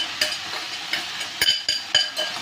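Boiled spaghetti and fried vegetables for chicken chow mein being tossed and stirred in a pan, with a light sizzle and several sharp utensil scrapes and knocks, close up and without speech.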